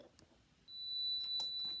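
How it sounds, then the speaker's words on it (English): A manual hat heat press timer lets out a steady, thin, high electronic beep that starts abruptly and holds, fairly quiet, over faint background noise. "That is the beep."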